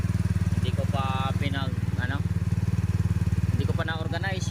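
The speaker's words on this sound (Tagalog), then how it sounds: "umaandar ka agad yung kanyang motor kahit nasa labas yung connection" A motorcycle engine running off a battery-operated CDI ignition with loose, unorganized wiring idles with a steady low pulsing putter, while someone talks over it.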